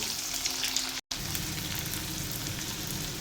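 Cumin seeds and plenty of onion fry in oil with a dense, even sizzle, close and continuous apart from one very brief break.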